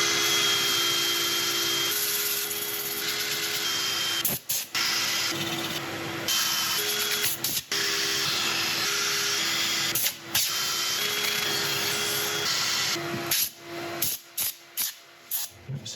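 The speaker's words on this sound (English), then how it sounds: "I'm going to set up for sanding" An oak burl spins on a wood lathe while being sanded, giving a steady, loud whirring drone with a sustained tone, broken by several brief dropouts near the end.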